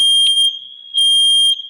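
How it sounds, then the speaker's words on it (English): A high-pitched electronic alarm beeps twice in long steady tones, loud and close, with a short quiet gap between them. "I think that's my fire alarm."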